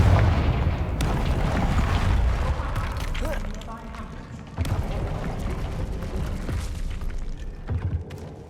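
The Confringo blasting spell in Hogwarts Legacy, heard as heavy booming explosions and crackling bursts that come in waves over a dense rumble, loud and close, with voices mixed in underneath.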